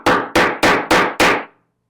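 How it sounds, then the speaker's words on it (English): Five sharp, evenly spaced metal hammer blows strike a setter tool to fix bag hardware through fabric, loud and close, each ringing briefly before the next, with no talk. "You take the Applicator or setter. Setter, thank you, and use the whacker."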